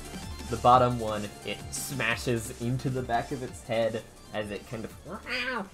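A voice imitates a cat, giving drawn-out, meow-like yowls with a rising and falling pitch between stretches of ordinary talk, all close and fairly loud.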